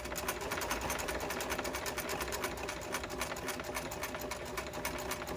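Sewing machine stitching an over-the-edge seam along fabric, a loud, steady, rapid mechanical whir close by that runs without a break and with no talk over it.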